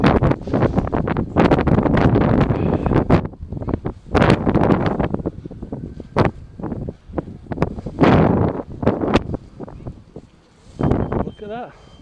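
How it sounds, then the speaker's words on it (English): Gusty British wind buffets the microphone outdoors in a town centre, a rough, low roar that surges and drops in uneven loud bursts across the whole stretch, with no clear talk over it. "It's British wind"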